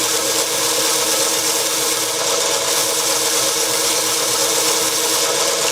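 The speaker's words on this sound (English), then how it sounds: "here I am standing waiting for a slow speed grinder to come up to speed" A slow speed bench grinder whirs loudly as it spins up to speed, a dense and steady hum with a rattly edge that runs evenly throughout, close by and with no talking.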